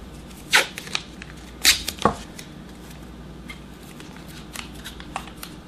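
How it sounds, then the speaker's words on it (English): Painter's tape is pulled from the roll and pressed down to hold a part during a Fitbit repair, giving a few sharp, close ripping and crackling bursts with quiet handling noise between them and no talking. "take a piece of painter's tape and we're going to tape this down"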